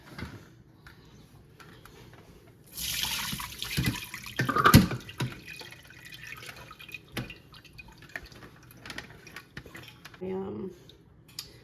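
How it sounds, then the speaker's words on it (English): Buttermilk from fresh homemade butter, made with milk from a family milk cow, drips and trickles through a strainer into a pot, with soft splashes, clinks of metal and kitchen handling noises, moderately close. "I have a strainer, and I'm gonna put a pot underneath here to catch the buttermilk"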